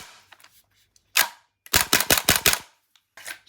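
A Krytac Kriss Vector gas blowback airsoft rifle fires on semi-auto: a single sharp crack, then a rapid string of about five snappy shots, then one more. Each report is close, loud and abrupt.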